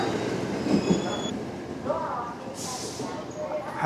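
A Japanese double-decker train rolls past with a steady rumble, faint high squealing tones and brief clatter throughout.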